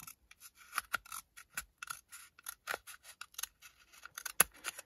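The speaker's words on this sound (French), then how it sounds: "vous prenez votre rouleau de papier toilette. Vous prenez une paire de ciseaux. Donc vous allez couper droit." Pair of scissors snipping through a cardboard toilet paper roll, a quick series of crisp, close clicks and short scraping cuts in uneven rhythm, with one sharper snap near the end and no talking.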